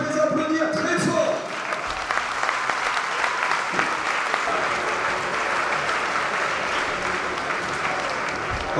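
Rugby supporters of Aviron Bayonnais applaud their team's centres at a season squad presentation, a large crowd's loud, sustained clapping that swells after an announcer's voice and music briefly at the start.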